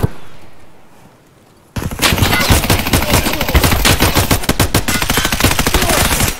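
Loud bursts of rapid automatic gunfire in the Escape from Tarkov video game erupt after a quiet opening and continue densely to the end, with no talking.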